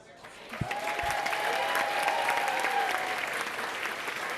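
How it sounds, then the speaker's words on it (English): A listening audience breaks into steady applause, a broad even wash of many hands clapping that holds from just after the start to the end. "Again they all applauded"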